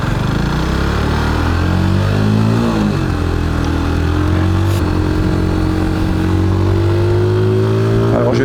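A Mash 125 Black Seven motorcycle accelerating on a straight road, its loud close engine note climbing through the gears with a brief dip at a shift, then rising steadily again.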